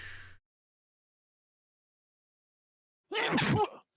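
A single sharp sneeze bursts out after a long silence, close and loud, with a faint breathy sound at the very start.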